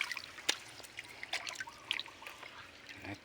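Water from a spring beside a creek trickles and splashes softly, with light bubbling drips and occasional sharper droplet sounds over a quiet outdoor background.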